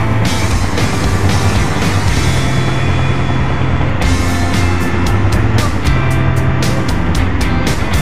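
Truck engines rumble at a ferry port as trucks are loaded onto a ship bound for Masbate, a loud continuous low drone with clanking and banging bursts scattered over it and no voices.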